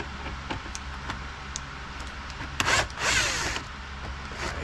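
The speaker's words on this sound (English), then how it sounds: "let's go ahead and get these little bolts out" A power tool whirs in short bursts while removing small bolts from the dashboard of an Audi Q7 3.0T during a front air blower repair, with a louder, longer run near the end over a quiet garage background.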